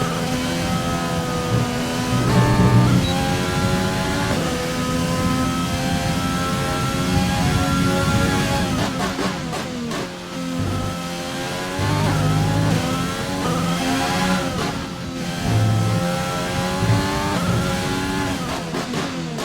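An F1 car with a V6 turbo engine in a Formula 1 racing video game, driven in a rainy season-opener race, plays loud and sustained with shifting pitch as gears change and revs rise and fall, and no voices are heard.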